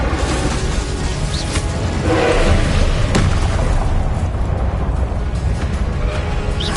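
Confringo and Incendio spell blasts in the video game Hogwarts Legacy: loud, dense booming and fiery roaring bursts that run together in a continuous rumble.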